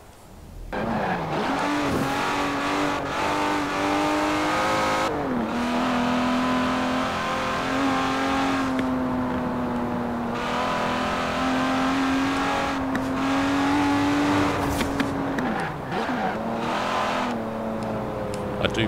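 A 2008 Aston Martin DBS James Bond Edition in Forza Horizon 4, its engine holding a loud steady drone with several rev dips and rises during shifts, plus brief tire noise, no talk.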